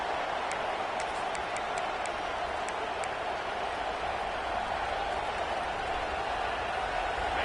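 Stadium crowd in College Football 26 roaring as a constant broad wash of noise, with faint whistles and claps scattered over the first few seconds.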